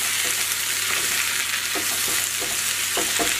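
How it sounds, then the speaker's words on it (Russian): Spinach sizzles steadily as it fries in a pan, with occasional soft scraping strokes from stirring, close and continuous without talk. "Смотрим, что тут у нас шпинат, он очень быстро сейчас на сковороде прикипится."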